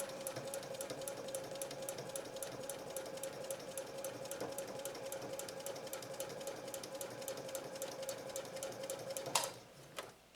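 A Janome 3160 QDC sewing machine runs a short straight stitch, its needle clattering in a fast, even rhythm over a steady motor hum, close by, ending with a sharp click as it stops.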